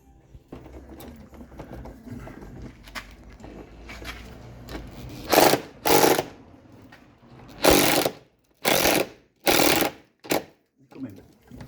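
A power tool grinds in short loud bursts while undoing a chassis bolt on a Land Rover Discovery 2 Td5, starting and stopping repeatedly in a workshop, with some low talk before the bursts.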